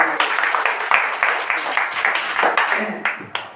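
Church congregation clapping in an uneven, close patter of individual claps under a speaking voice that continues throughout.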